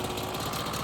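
A KTM 300 EXC two-stroke dirt bike engine idles steadily with a dense, buzzing drone and constant low rumble, close and continuous.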